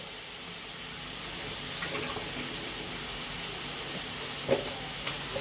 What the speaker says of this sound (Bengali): আর ওদিকে মাংসটা আমি কিন্তু একটু জোরে করে দিয়েছি, ওটা কিন্তু ভাজা ভাজা হচ্ছে